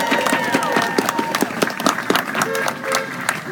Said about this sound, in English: So round of applause for us all.